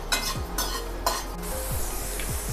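Cumin and coriander seeds dry-roast in a hot kadai, a spatula scraping and rattling them in a few brisk strokes over a low, dry crackle.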